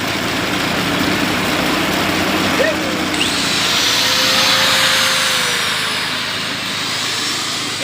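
An angle grinder whines loudly beside a running diesel engine while a rewound dynamo is tested, its pitch climbing and then holding steady over a continuous low engine hum.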